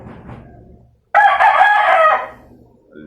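A single loud rooster crow rings out close by after a few soft clucks, then trails off.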